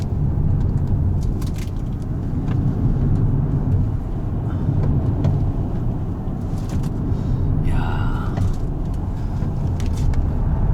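Steady road and tire rumble inside a Hyundai Ioniq 5 long-range 2WD electric car driving a winding mountain road in Gangwon Province. The noise is continuous and fairly loud, with no talking.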